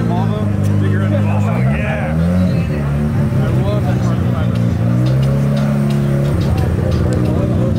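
Modified muscle cars rev hard while leaving a car meet, their loud engines rising and falling in pitch as they pull away, with people talking and shouting over the noise.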